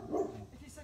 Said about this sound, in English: Dog barking in the back in the van.